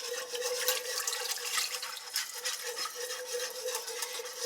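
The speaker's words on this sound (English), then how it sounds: "I'm going to add the broth to this" Beef broth pours into a pan for stroganoff and gets whisked, a soft continuous liquid splashing and stirring sound heard alone at close range.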